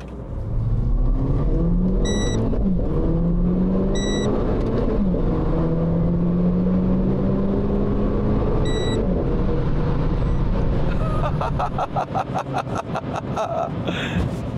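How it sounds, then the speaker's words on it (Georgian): An Audi RS sports car in Race Mode accelerates hard through paddle-shifted gears. The engine rises and drops in pitch with each shift, and a crackling exhaust burble builds near the end. "სადაც უკვე გადავდივართ Race Mode-ში და ყველაფერს ვაკონტროლებთ paddle shifter-ებით."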